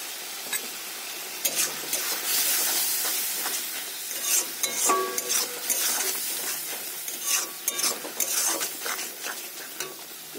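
Ground melon seed paste is stirred into spice masala frying in a pan. A spoon scrapes in uneven strokes over a soft, steady sizzle, heard close with no voices.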